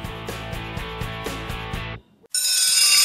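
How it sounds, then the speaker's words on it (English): Several school bells ring together in unison, a sustained metallic clanging with a steady pulsing rhythm for about two seconds, then a brief pause before a bright, high ringing tone starts up again. "That's school bells ringing in unison."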